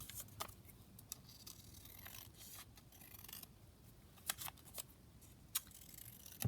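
Scissors snip through a paper fold-out at a desk, a few quiet, scattered cuts with soft paper rustling between them, close and faint.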